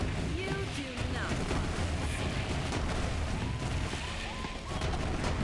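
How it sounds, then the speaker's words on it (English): Dense, continuous area-damage explosions from thrown grenades in Borderlands 3, Moze with a nuclear fallout build, roaring steadily throughout with no let-up. "I could just throw the grenade out and just do this."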